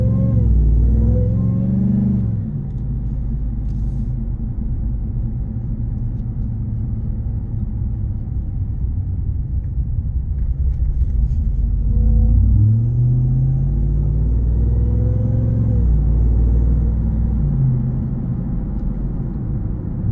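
A 2024 RAM 1500 TRX pickup truck on the road, heard from inside the cab as a constant low rumble. The engine swells gently as it accelerates and shifts through the gears. No one speaks.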